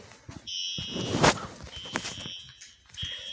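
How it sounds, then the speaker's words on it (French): An electronic alarm in a video game sounds in repeated steady tones that break off and return, with a brief burst of noise in the middle and faint thuds beneath. "il y a une alarme, c'est sûr."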